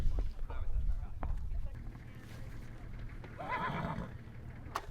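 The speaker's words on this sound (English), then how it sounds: "So all the horses are waiting for feed and water." Horses at an expedition camp in Mongolia wait for feed and water, one whinnying and hooves shuffling nearby, while a person talks over the scene.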